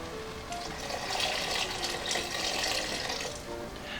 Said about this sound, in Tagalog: Magdadagdag lang tayo ng tubig dito.